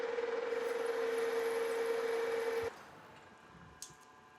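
A lathe cutting down the shoulder of a gear arbor with an integrated 15-tooth gear makes a steady, loud mechanical whine with a humming drone. It stops abruptly about two-thirds through, leaving quiet workshop room tone and one faint click.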